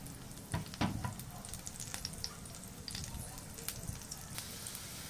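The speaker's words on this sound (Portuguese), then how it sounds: "um pouquinho da nossa cebola, é só para um acompanhamento mesmo, viu, pessoal? Vamos deixar dourar aqui um pouquinho." Onion frying and browning in a pan for a bean dish, a soft, faint crackling sizzle with scattered pops running steadily throughout.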